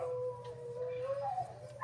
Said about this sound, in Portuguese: Agora meus cachorros estão uivando.